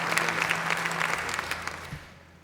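A conference audience claps steadily for a couple of seconds, the applause fairly even and slightly distant before it tapers off.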